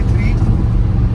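A luxury SUV in dynamic all-wheel-drive mode accelerates at full throttle through a curve, giving a steady, loud low engine and road rumble that runs throughout, with a voice talking over it.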